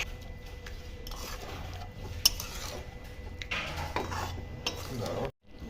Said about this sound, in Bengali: কপি সেদ্ধ হয়ে এসেছে, দিয়ে দেব গরম মশলা গুঁড়ো, তারপর মিশিয়ে দেব।